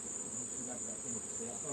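Honeybees from an active hive hum steadily around an opened box during a honey harvest, a thin, continuous high-pitched buzz close by with a low murmur beneath.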